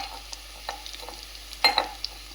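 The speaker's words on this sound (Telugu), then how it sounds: "ఇందులో జాజిపత్రి, యాలకులు, లవంగాలు, దాల్చిన చెక్క, పచ్చిమిర్చి, ఆనియన్స్, పలావాకు వేసి బాగా వేయించాలండి." Mace, cardamom, cloves, cinnamon, green chilies, onions and bay leaf frying in a pan for coconut rice, a steady close sizzle with scattered stirring scrapes and one louder clatter near the end.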